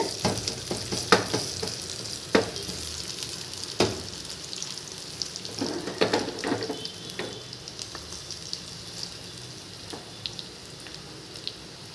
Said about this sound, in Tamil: நம்ம தாளிப்பு வேலை முடிஞ்சுது பூண்டு பொன்னிறமாக மாறுது